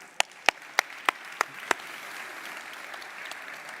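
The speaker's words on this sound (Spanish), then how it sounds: "O sea que un aplauso para Áurea." An audience applauds Áurea at an industry talk event; six sharp, evenly spaced claps ring out first, then a softer spread of scattered clapping continues faintly.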